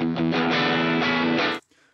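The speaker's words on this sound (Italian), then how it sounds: "Le due distorsioni, non essendo esagerate, non si mischiano, non si impastano" Moderately distorted electric guitar with a Telecaster-like tone, loud sustained chords for about a second and a half that cut off abruptly into near silence.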